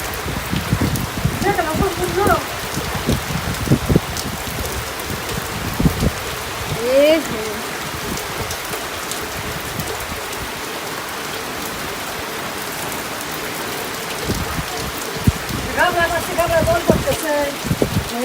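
Rain falls steadily in a Bangladeshi village, a constant hiss and patter close by, with voices talking intermittently over it.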